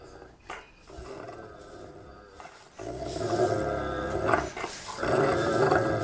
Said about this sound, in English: Listen to this dog growl.